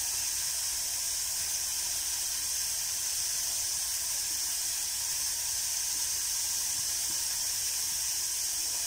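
Grated coconut dry-roasting in a hot pan for a bitter gourd theeyal gives off a steady, soft, even hiss that continues without a break and with no voices.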